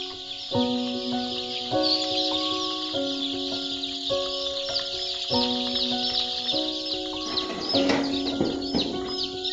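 About 1,750 free-range chickens cluck and chatter steadily in an enclosed poultry shed, with a constant high-pitched din and a repeating tonal hum underneath.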